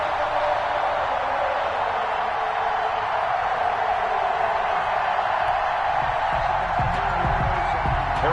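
A dense stadium crowd in an NFL video game roars and cheers steadily before a Kansas City Chiefs kickoff against the Cleveland Browns, a constant wall of noise with a commentator's voice over it.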